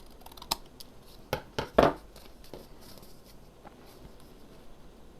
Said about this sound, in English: let me try trimming it down just a little sliver